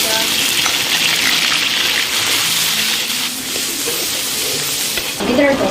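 Ginger, garlic and pickled chilies fry in hot rapeseed oil and lard for a Sichuan hotpot, giving a loud, continuous sizzle and crackle with stirring scrapes, close up.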